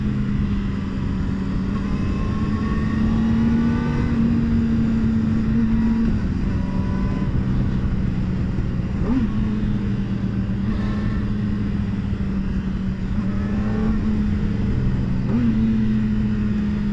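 A Kawasaki ZX4-R motorcycle engine screams at high revs during a road test ride, a loud sustained whine with slight pitch dips at gear changes and wind rush, no talk.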